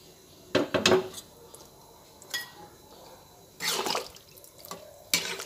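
Water is poured into a pot of simmering masoor lentils with winter vegetables, giving a few short splashy pours and clinks of a pot and utensil, with quiet pauses between them.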